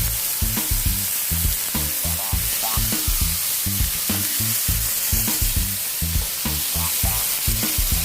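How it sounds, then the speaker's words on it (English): Beef searing in about three teaspoons of hot vegetable oil for a roast beef dish, a loud, constant sizzle and crackle close up, with rhythmic low thumps and scraping running through it and no voices. "about 3 teaspoons of vegetable oil in there just to sear it right quick"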